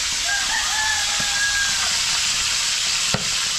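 Fish sizzles and crackles as it fries in a pan, a loud continuous hiss of hot oil, while a rooster crows faintly in the background and a sharp clink sounds near the end.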